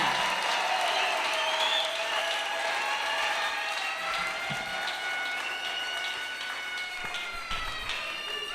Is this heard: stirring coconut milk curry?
no